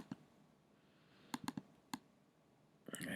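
Mouse clicks during image editing on a computer: a single click early, then a quick burst of three sharp clicks, another click, and a final cluster near the end, close and crisp over a quiet room.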